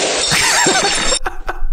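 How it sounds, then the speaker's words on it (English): Glass shatters in one bright, sharp crash that rings and scatters for about a second, followed by a few smaller clinking hits of falling pieces, close and loud. "That perfect glass shattering satisfactory sound."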